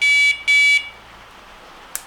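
An MK1 R-Plus Compact remote bite alarm, set to its blue alarm, sounds two steady high electronic tones in quick succession, close and loud, followed by near silence and a brief faint click.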